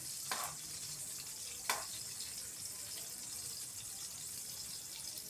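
Food fries in a pan with a steady, faint sizzle and two brief scraping clinks as it is turned.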